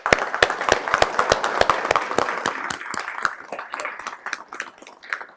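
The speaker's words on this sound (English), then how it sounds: "a big round of applause for being here today" Audience applause at a transit police promotion ceremony, a dense crowd of hands clapping steadily for several seconds, loud and close at first and thinning slightly toward the end, with no talking over it.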